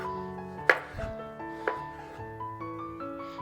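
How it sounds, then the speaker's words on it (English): Knife slicing straight down through peeled, cored fruit on a cutting board, two or three sharp close chops and board knocks over faint background music. "after I get it all peeled and cored out, you can just slice straight down"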